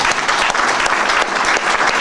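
An audience at a Total Life Changes Ghana pre-launch event breaks into loud, steady applause, continuous dense clapping close by with no talk over it.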